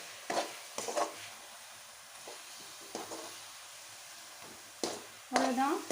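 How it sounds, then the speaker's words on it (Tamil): Coconut burfi mixture stirred in a pan, heard as sporadic scraping and shuffling strokes with a soft sizzle beneath, broken by brief bursts of nearby voice. "இது நல்லா கைவிடாமல் கிண்டிகிட்டே இருங்க, அடி பிடிச்சிடும்."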